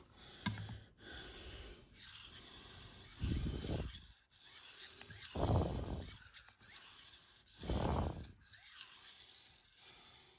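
A knife blade rasps across a Shapton Kuromaku 1500 grit whetstone in slow, rhythmic strokes, about four distinct passes with quiet pauses between, close up and soft.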